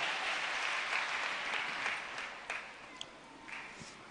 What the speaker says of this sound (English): Give Jesus a big hand clap